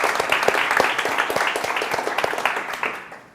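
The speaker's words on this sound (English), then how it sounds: "And please, one more round of applause for Ivetta." A conference audience applauds after a technical presentation, a dense burst of clapping that holds steady, then fades out toward the end.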